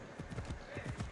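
Horse hooves clip-clop in a quick galloping rhythm in the Assassin's Creed Odyssey video game, close and steady across the whole moment, with a voice calling out over them.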